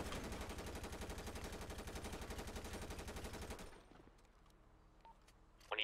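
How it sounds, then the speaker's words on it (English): Rapid automatic gunfire in a GTA V roleplay shootout, loud and steady bursts for several seconds before cutting out, followed by near silence with a few faint clicks and a sharp noise at the end. "we got shots fired down here, fire station"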